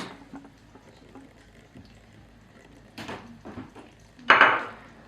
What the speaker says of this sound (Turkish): Ve odun kaşıkla çırpıyoruz